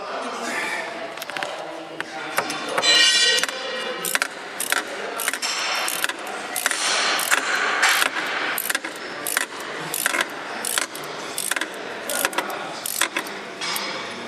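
A wrench tightens a nut on the rear shock absorber of a 2011 Ford Edge, giving a steady run of sharp metallic ratchet clicks and clinks, close up and fairly loud, continuing for the whole stretch.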